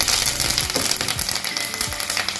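Green chillies and curry leaves frying in hot oil for a puri curry, a steady dense crackling sizzle with small pops throughout, close and fairly loud, no voices.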